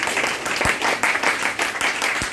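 A group claps at a school event, a moderate burst of hand clapping with a few sharper individual claps standing out.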